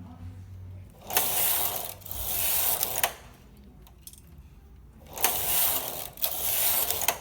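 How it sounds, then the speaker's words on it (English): A domestic knitting machine carriage sliding across the needle bed, knitting the needles back in, makes rattling mechanical passes, four sweeps with short pauses between them, close and loud. "And now all the needles are knitting again."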